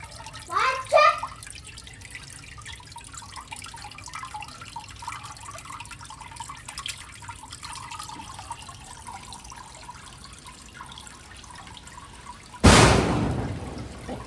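Rainwater drips and trickles in a soft, continuous wash, with a brief voice near the start and a sudden louder splash of water near the end.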